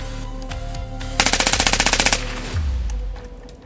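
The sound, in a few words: Dillon gun firing in rapid succession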